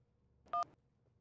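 A single short dual-tone keypad beep sounds as someone dials a telephone in a domestic comedy scene. The tone is brief and moderately faint over a quiet background.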